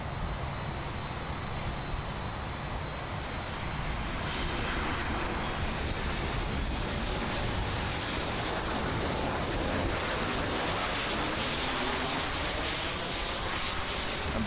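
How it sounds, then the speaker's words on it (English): A GOL Boeing 737 MAX 8 jet arrives at Miami International Airport, a broad steady engine roar that swells slightly and holds, heard from a distance, with no talk over it. "And we have a GOL, Boeing 737 MAX 8, arriving in from Brasilia."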